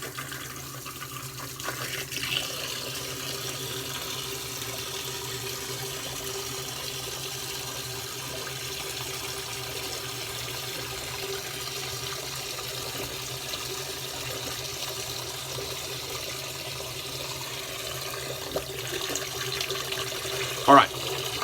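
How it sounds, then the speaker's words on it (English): Cold water runs steadily from a bathroom tap during a wet shave, a constant hiss that holds for the whole stretch, with a brief clatter near the end. "We'll turn the cold water on"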